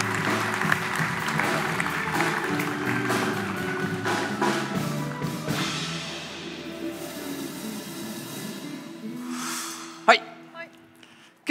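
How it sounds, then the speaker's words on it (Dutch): Audience applause at a Dutch late-night talk show event, a warm burst of clapping from a crowd that gradually fades out, with a few voices and a sharp knock near the end. "mag ik even een hartelijk applaus voor de Digi Jongerenraad"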